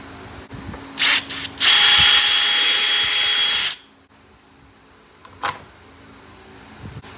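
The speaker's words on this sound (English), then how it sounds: "I'm gonna hold this where I want it, drill that hole, do the same thing." Power drill boring a mounting hole for a fender flare on a 2012-2017 Can-Am Maverick side-by-side, with a short burst, then a longer steady whine of about two seconds, and a brief blip afterward, close and loud.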